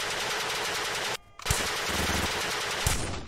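Gunfire in the video game Wetwork bursts out in dense rapid volleys, loud and continuous, broken by a brief pause and two heavier booming shots.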